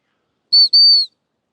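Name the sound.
dog training whistle blown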